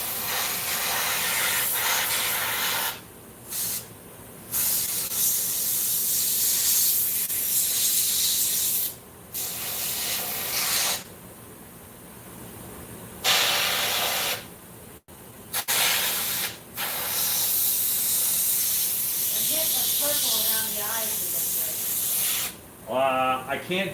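A compressor-fed airbrush sprays paint onto a Mer-Man toy figure in long steady hissing bursts separated by short pauses, loud and close, with a brief voice near the end.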